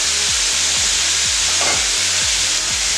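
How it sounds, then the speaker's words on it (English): Beef with onions, garlic, ginger and carrots sautés in a pan, a loud, close, continuous sizzle with a regular series of spatula scrapes roughly every half second. "And then just saute that"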